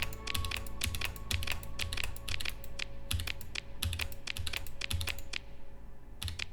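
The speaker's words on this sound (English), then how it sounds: "I'll hold my finger over G on the keyboard" A computer keyboard clicks in a rapid, uneven run of close, crisp keystrokes while a key is held down during play of the space game StarSector, with a low steady hum underneath and no talking.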